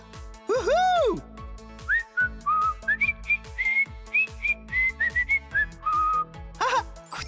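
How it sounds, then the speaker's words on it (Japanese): A person whistles a wandering tune of short rising and falling notes, clear and close, with brief pauses between phrases. "あ、口笛だ。"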